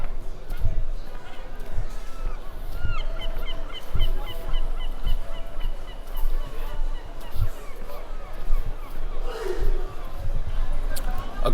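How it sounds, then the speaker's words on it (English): Seagulls calling in the background of an evening street in Porto, Portugal, repeated thin cries drifting in and out under nearby chatter and crowd noise. "I hear seagulls in the background"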